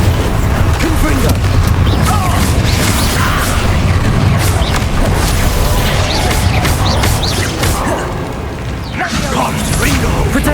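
Confringo spell blasts in Hogwarts Legacy combat land as repeated loud, crackling bursts and booms over a dense, chaotic battle din, with voices shouting throughout.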